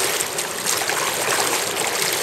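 Broadband rushing white water from the Naptown Rapid river rapids roars steadily and close, a dense hiss without pauses or voices.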